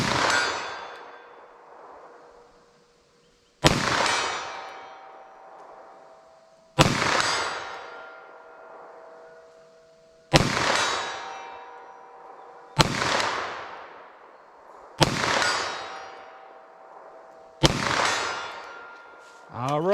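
Seven loud, sharp 9mm pistol shots firing Federal Punch ammunition ring out a few seconds apart. Each crack is followed by a long, fading metallic ring from a struck steel target.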